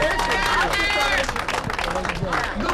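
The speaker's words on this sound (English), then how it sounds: "let's give her a big round of applause" An audience at the official opening of Linwood Shopping Center gives a burst of clapping and cheering, crowded and close, with a voice speaking loudly over the applause.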